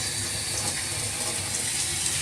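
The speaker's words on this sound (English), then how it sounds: "I'm going to turn on the hot water because we want to use hot water" Hot water runs steadily from a kitchen sink tap, a continuous hissing splash with no change in flow and no talking.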